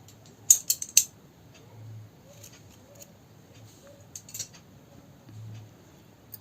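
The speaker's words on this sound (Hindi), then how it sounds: "यहाँ अब हम काट लेंगे कैंची से।" Scissors snip crochet thread while a handbag is being made: a few faint, quick metallic clicks near the start and another short cluster later, quiet against a soft background.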